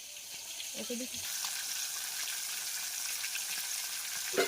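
Fish pieces shallow-frying in oil in a village kitchen pan, a continuous bright sizzle that swells slightly, with faint voices briefly at the start and end.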